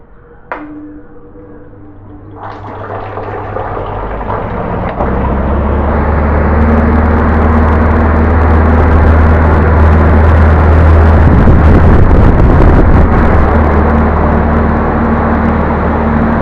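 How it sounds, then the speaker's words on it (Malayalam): A repaired heavy-duty exhaust fan motor runs with a steady, loud low hum and broadband whoosh after starting up, building over a few seconds and then holding constant. "ഇപ്പോൾ നമ്മുടെ ഫാൻ നല്ല ഭംഗിയായിട്ട് വർക്ക് ചെയ്യുന്നുണ്ട്."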